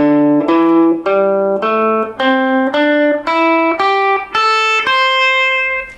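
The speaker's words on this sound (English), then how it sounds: "So today I'm going to show you what's called the blues scale." A guitar plays the blues scale one note at a time, climbing in evenly spaced, sustained notes with a slightly driven tone, loud and close with no voices.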